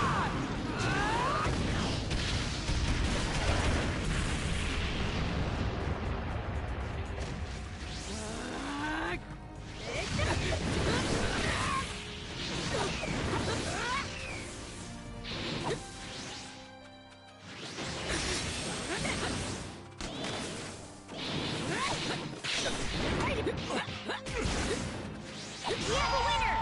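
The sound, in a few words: King Uzumaki Barrage attack in video game Naruto x Boruto Ultimate Ninja Storm Connections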